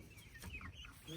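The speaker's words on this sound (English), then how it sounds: "Here is another chicken." A farm chicken clucks in a short run of close, soft calls outdoors in a pen shared with sheep and a goat, with faint background noise.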